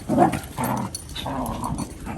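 German Shepherd puppies growling and grumbling in bursts, with yips and whimpers mixed in, close by and fairly loud, like rough play.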